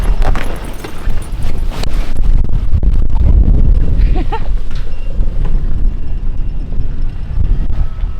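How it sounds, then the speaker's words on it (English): Strong wind buffets a sailboat out at sea, a loud, constant rushing roar battering the microphone with low rumble, faint voices briefly audible beneath it. "A little breezy today."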